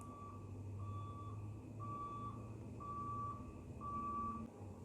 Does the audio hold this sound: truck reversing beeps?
yes